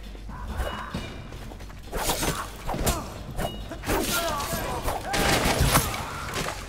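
Gunfire in the stealth video game Dishonored comes as repeated sharp shots and thuds over a rumbling background, heard alongside people talking.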